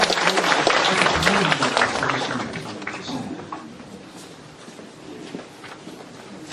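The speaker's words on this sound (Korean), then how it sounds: "여러분 큰 격려의 박수 부탁드립니다." A lecture audience applauds a professor at a philosophy and humanities forum, with dense clapping that starts loud and thins out gradually over several seconds, with a little crowd murmur underneath.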